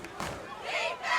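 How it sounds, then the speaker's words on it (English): A home crowd at a Friday night high school football game between North Haven and Xavier chants for defense, a brief swell of many voices shouting together in the stands. "North Haven crowd tonight calling for defense"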